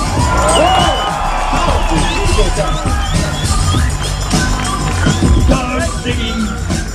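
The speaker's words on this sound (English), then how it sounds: "Give him a round of applause, ladies and gentlemen." A large outdoor crowd at the 2011 Top Gear show at Kyalami cheers, whoops and shouts loudly and continuously as the Stig drives in a London taxi, with an amplified voice speaking over the noise.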